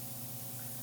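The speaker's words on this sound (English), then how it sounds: "Even though the spray is coming out," Hydra facial machine spraying, a brief steady hiss of mist with a low mechanical hum beneath, faint and close.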